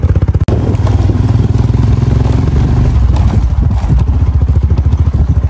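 A motorcycle carries a rider and a passenger on a trek route in Ladakh. A loud, close, rhythmic engine putter continues throughout with clattering road bumps and one sharp knock early on, and no speech.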